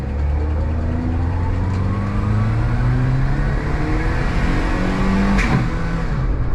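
A Daihatsu Mira's small engine drones while driving and revs up through rising pitches as the car accelerates, loud and steady inside the cabin with road rumble beneath and no speech.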